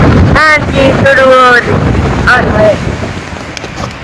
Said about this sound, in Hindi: आंधी शुरू हो गई है और बहुत तेज हवा है